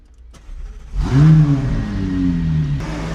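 A McLaren 570S fires up, the starter whirring briefly before the engine bursts into a loud rev and then drops to a deep, steady idle, heard close and alone.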